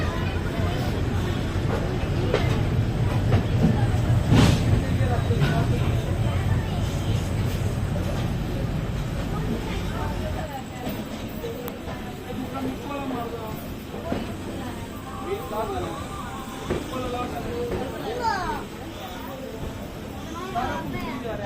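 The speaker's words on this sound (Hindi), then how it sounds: "तो फाइनली अपनी ट्रेन पहुंच रही है अमृतसर जंक्शन रेलवे स्टेशन पर।" A Haridwar Amritsar Jan Shatabdi train pulls into Amritsar Junction with a steady low rumble and rattle that eases off partway through, while people talk nearby throughout.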